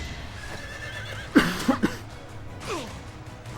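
Horses in a Fire Emblem-style strategy game give a sharp neigh followed by quick snorting whinnies over low background rumble, then a fainter descending whinny.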